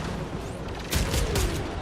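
Gunfire and explosions from the video game Warframe during a raid, a dense continuous barrage with two heavier booming bursts about a second apart, loud and without talk.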